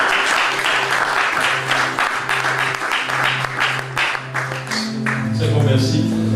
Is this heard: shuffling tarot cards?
no